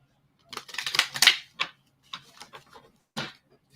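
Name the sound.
shuffling a deck of oracle cards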